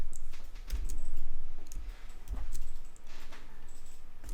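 Sparse, light mouse clicks while working in Adobe software, a few short taps scattered across a quiet room with faint background noise.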